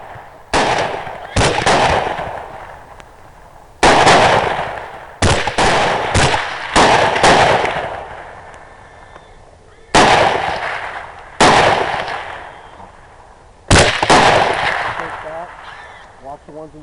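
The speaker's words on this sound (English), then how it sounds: "I'm going to shoot one of the hogs on the left side to start with" Rifle shots from a feral hog hunt in a small field at night, seven loud sharp cracks spaced a second or more apart, each followed by a decaying echo, with quiet gaps between.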